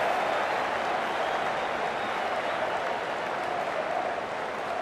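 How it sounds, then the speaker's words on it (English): A Cricket 19 video game crowd at an England vs Pakistan Test, the Barmy Army chanting amid applause, a dense, continuous roar of many voices and clapping, steady and loud throughout. "Every time I hear these chants from the Barmy Army"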